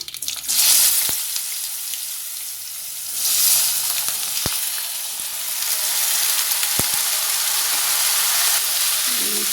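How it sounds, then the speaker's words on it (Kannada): Chopped bottle gourd sautés in hot oil with byadgi chilli and asafoetida, sizzling and crackling in bursts that swell and settle, with a few sharp knocks of a spoon against the pan, close and without voices. "ಇದನ್ನು ಎಣ್ಣೆನಲ್ಲಿ ಚೆನ್ನಾಗಿ ಬಾಡಿಸ್ಕೊಳ್ಳೋಣ."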